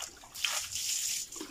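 Water splashes and sloshes in uneven bursts while hogs are bathed in a backyard farm, a few soft, fairly close gushes with brief lulls between them.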